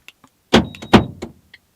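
A Nissan Primera P12 sounds a brief warning tone confirming its internal alarm sensors are switched off, a short steady beep among a few clicks and clunks from the car's locking.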